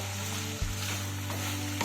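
Vegetables fry with spices over a high gas flame for sambar, stirred in a pan. A continuous close sizzle carries a couple of brief scrape and knock sounds, and there is no speech.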